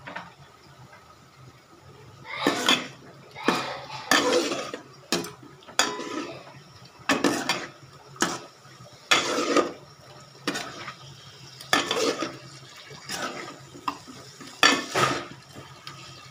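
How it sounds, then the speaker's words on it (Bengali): Foloi fish with tomato sizzling and being stirred in a pan, giving repeated bursts of scraping and frying clatter at an irregular rhythm, with quieter gaps between strokes; close and fairly loud, with no talk. "এখন মাছ দিয়ে দিচ্ছি, মাছ দিয়ে কয়েক মিনিট কষাবো"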